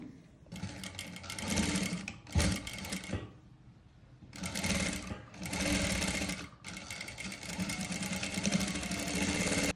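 A sewing machine stitches a back-open saree blouse in loud, steady whirring bursts of several seconds each, separated by short pauses, close up and alone.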